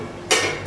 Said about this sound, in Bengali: ঢাকনা দিতে হবে